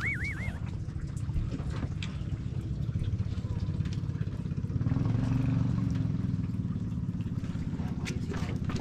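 A fishing vessel's engine runs steadily during a sea trial, a loud continuous low rumble with rhythmic churning that swells slightly midway, heard up close throughout.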